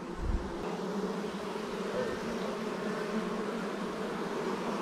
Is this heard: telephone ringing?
no